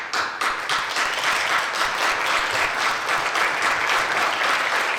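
Conference attendees at SolidusConf 2019 give a round of applause as core members stand, dense and lively clapping from a full room with a few crisp individual claps near the start, sustained and fairly loud.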